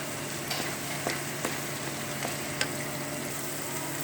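Semolina with cardamom roasts in a pan under steady stirring, making a dry, even hiss with faint scrapes and light taps of the spoon, close and quiet, with no talk.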